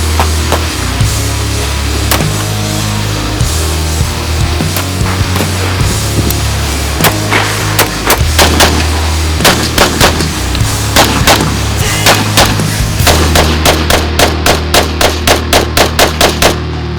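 Live gunfire during a military firing-phase competition: loud, sustained rattling volleys of rifle and machine-gun shots, dense and echoing across an open range, building into fast regular bursts toward the end.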